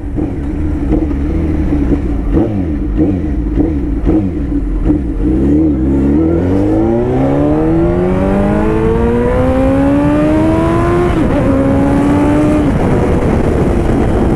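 Loud Hayabusa 1300 sport motorcycle engine revving up through rising pitch, holding a high whine, then shifting and climbing again, close by and continuous.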